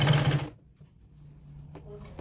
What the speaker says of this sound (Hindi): हमने सिलाई करनी है